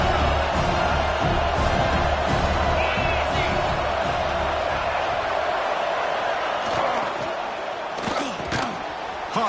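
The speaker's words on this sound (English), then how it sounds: "Listen to the crowd energy here in the early going." A large crowd roars continuously in a college football stadium in the video game NCAA 26, a dense, loud wash of cheering with occasional thumps and shouts rising above it.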